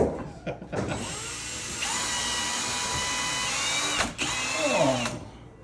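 A power drill whines steadily while boring into wood and strikes the edge of a wooden joist, with brief stops, restarts and a few knocks, close and fairly quiet.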